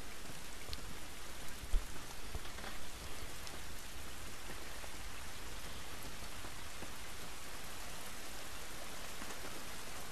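Rain in the video game The Last of Us Remastered: a steady, soft, even hiss of rainfall on surfaces, continuous throughout with a couple of faint brief knocks early on.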